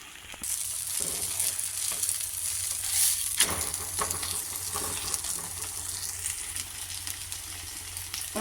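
Spicy egg dosa sizzles steadily in oil on a hot pan, with a few sharp scraping clicks of a spatula as it is flipped.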